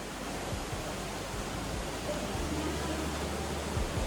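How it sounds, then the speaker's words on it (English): Waterfall at Mill Creek in Moab roars as a steady broadband rush of falling water, close and continuous, with faint low rumbles mixed in. "Check out that waterfall."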